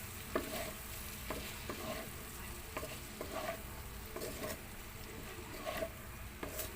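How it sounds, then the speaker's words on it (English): Fish sisig being stirred in a hot pan, with repeated scraping strokes of a utensil over a steady sizzle of frying, close and moderately quiet, no talking. "we have to give a good mix"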